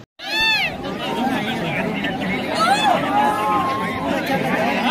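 A packed cinema hall crowd filling the space with dense chatter and cheering, a steady hubbub of many voices near and far, with high whistles and calls rising above the murmur.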